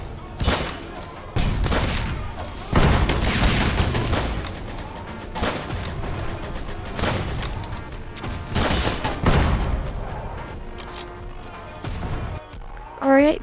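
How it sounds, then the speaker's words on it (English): Sustained standard-rifle fire in the Roblox game Air Ship Assault, bursts of rapid shots with heavy impacts and booms, dense and loud, continuing throughout with brief lulls. "footage right now of me playing with the standard rifle on Assault"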